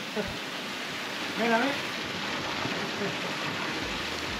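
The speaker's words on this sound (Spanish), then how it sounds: "Lloviendo." Steady hiss of rain falling during a storm training session, continuous and even, with a brief voice rising over it partway through.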